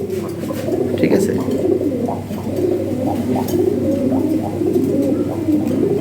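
Pigeons kept for sale coo and murmur in repeated low throaty phrases, steady and fairly close, with someone talking over them throughout.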